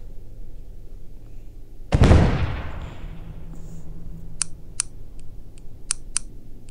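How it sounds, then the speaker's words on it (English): A bomb thrown at an enemy in a video game goes off in one loud, sharp burst that rumbles and fades over about a second, followed by a few crisp clicking taps. "I just throw this bomb at him."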